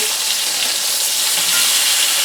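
Slightly frozen steaks searing in a hot pan after being turned over, a loud, close, dense sizzle that runs on steadily and evenly.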